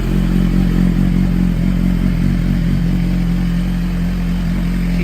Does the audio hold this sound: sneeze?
no